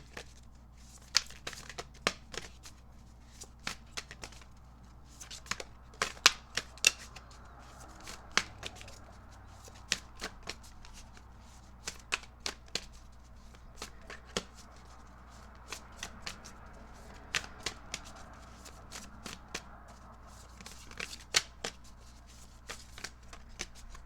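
A deck of tarot cards is shuffled close up with repeated crisp riffles and slaps in an irregular rhythm over a quiet background.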